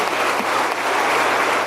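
Brief burst of audience applause at a political caucus, steady dense clapping heard at moderate distance for under two seconds.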